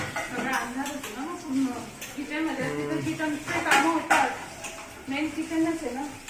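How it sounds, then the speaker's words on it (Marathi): Pots, cups and cutlery clink and clatter as dishes are washed in a home kitchen during a power cut, the clinks coming through continuous talking. "भांडी धुणं आधी चालू आहे"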